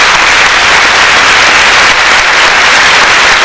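An audience at a church talk gives a priest a round of applause, dense and sustained clapping from many seated people, loud and close throughout.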